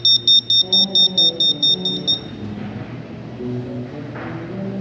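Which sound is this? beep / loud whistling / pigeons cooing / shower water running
beep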